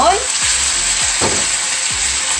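Korean blood sausage (sundae) being stir-fried in seasoning sizzles and crackles steadily in a pan, with a few soft scrapes of tossing and mixing, no voices.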